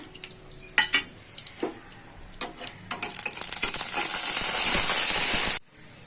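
Dried red chillies and whole garam masala dropped into hot oil, a few clinks of a utensil against the pan, then a loud, close, steady sizzle building and holding for several seconds before cutting off abruptly.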